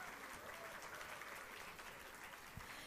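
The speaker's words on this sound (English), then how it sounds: "A huge round of applause for all of them" Steady applause at a student-organised artificial intelligence conference, a dense even wash of clapping held at a fairly quiet level for the whole stretch, with no single claps standing out.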